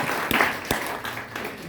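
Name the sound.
audience clapping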